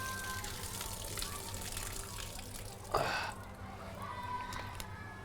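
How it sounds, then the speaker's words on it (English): Starchy potato water drains off in a kitchen, a steady watery pour that rises in a brief louder gush near the middle and then settles back to a soft trickle. "see all that starchy water, just let that go."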